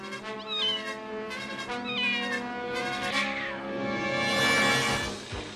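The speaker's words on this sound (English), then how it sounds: "Uh-oh, saber cat." A saber cat in a He-Man movie gives drawn-out, wavering meow-like yowls and caterwauling cries, rising into a harsher, noisier snarl toward the end, close and fairly loud, with no talking.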